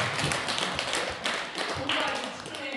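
An audience applauds at a Won Buddhist Founding Day celebration, a dense, continuous patter of many hands clapping fairly close, swelling and ebbing slightly over a few seconds with no voices on top.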